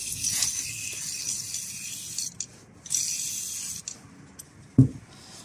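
Brake cleaner hisses from an aerosol can onto an oil pump used for oil changes, two sharp spray bursts separated by a pause, followed by a brief clunk of handled metal near the end.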